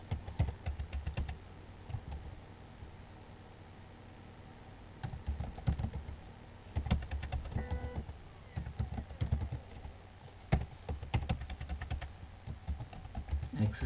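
Steady typing on a computer keyboard while entering HTML elements, rapid close clicks in irregular bursts with a brief lull in the middle and no speech.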